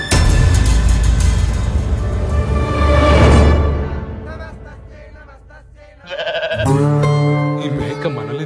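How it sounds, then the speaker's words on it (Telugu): A goat bleats loudly in a chaotic film scene, a wavering cry rising over a dense wash of background music and commotion. "ఈ మేక మనల్ని తగులుకుందేంట్రా?"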